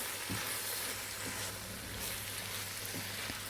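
Ground spices and garam masala sautéing in a pan for boneless chicken gravy, a steady soft sizzle and hiss with faint stirring scrapes, continuous and close.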